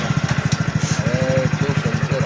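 A motorcycle engine idles close by with a steady, rapid low thumping pulse, even and unbroken, with faint tonal sounds in the background.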